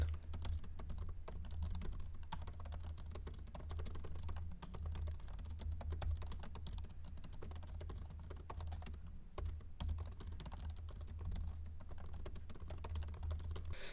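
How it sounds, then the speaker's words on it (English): Steady, rapid typing on a MacBook Pro 14 laptop keyboard, with soft, dense keystroke clicks running continuously and fairly close. "here is a typing test of my MacBook Pro 14"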